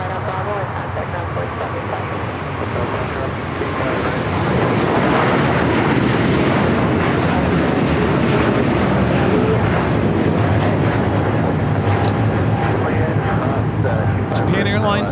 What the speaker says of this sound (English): Japan Airlines Flight 15 taking off to Tokyo Haneda on the A350 1000.